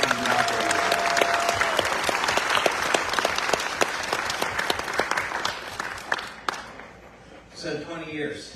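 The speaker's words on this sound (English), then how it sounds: "So please give yourselves a round of applause for the amazing operators" A crowd on a cruise in Greece applauds operators, a sustained burst of dense clapping that tapers off before a voice begins speaking near the end.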